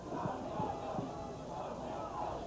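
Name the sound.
football crowd cheering at Queen's vs McGill game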